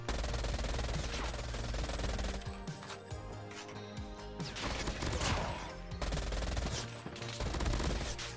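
Rapid bursts of automatic gunfire from a gun in the video game Call of Duty Mobile, dense and loud, with short pauses between volleys and no talk.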